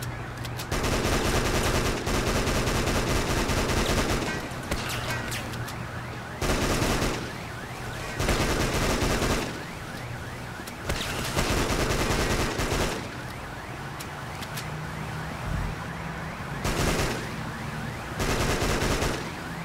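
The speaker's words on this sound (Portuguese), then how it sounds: "Essa arma aqui doida, hein? A metraca." Bursts of machine gun fire in the driving game Driver: Parallel Lines, loud rapid automatic volleys repeating several times with short gaps, over a steady low hum of background game sound.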